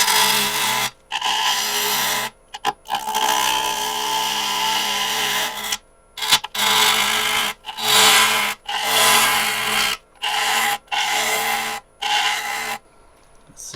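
A pecan wood bowl spins on a lathe while a gouge thins its rim, giving a loud, steady rasping scrape in repeated passes broken by short pauses.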